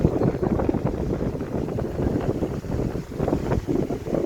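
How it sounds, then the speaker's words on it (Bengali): An electric fan runs at high speed in a shop, putting out a strong, steady rushing whoosh of air with a rough, gusty texture and no speech. "ফ্যানটা কিন্তু অত্যন্ত ভালো, হাই স্পিডে বাতাস হয়, ঝড়ের মতো এক কথায়।"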